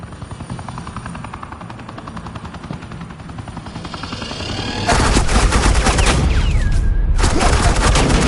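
Gunfire erupts in the Batman Telltale The Enemy Within game on PS4, loud dense bursts of automatic shots that kick in abruptly midway over a low droning rotor-like background, continuing steadily to the end.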